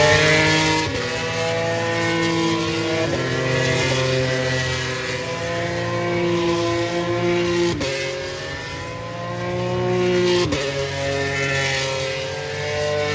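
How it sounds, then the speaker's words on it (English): Formula 3 race cars leave the pits at the 2022 British Grand Prix, their engines droning loudly and steadily with overlapping pitch climbs and sharp gear-shift drops as several cars pass nearby. "Here we see the Formula 3 cars going out of the pits for their race."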